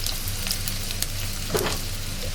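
Ginger sautéing in a pan for a Kottayam-style fish curry gives a steady, close sizzle with a few soft stirring scrapes and no voices.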